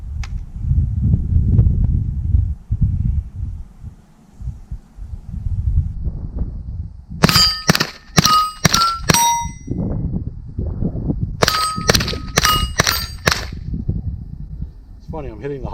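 Bullets strike steel shooting targets on a Steel Challenge course, giving two quick bursts of sharp, ringing metallic pings spaced at even intervals. Low wind rumble and handling noise fill the spaces between the bursts.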